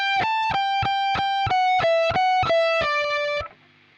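An electric guitar with distortion plays one bar of a solo, about eight evenly spaced picked notes stepping gently downward. It is loud and close, the last note ringing briefly before the sound drops away.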